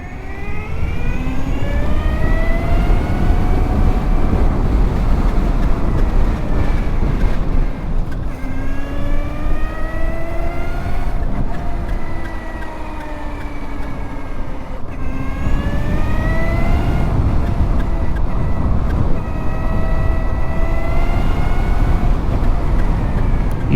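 A car on a race track pulls hard in second gear, its engine note rising and falling in repeated sweeping revs through several acceleration runs, loud and close with road and wind roar underneath.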